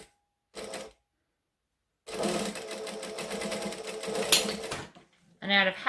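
Sewing machine stitching a strap, a short burst of rapid mechanical needle clatter followed after a pause by a longer steady run of stitching, close and clear, ending with a brief stop and restart.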